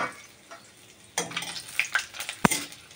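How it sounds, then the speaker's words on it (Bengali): Dried red chillies and bay leaves hit hot oil in a pan for a light goat meat curry, setting off a sudden sizzle, then crackling and a sharp utensil clink nearby. "এটাকে একটুখানি ভাজবো।"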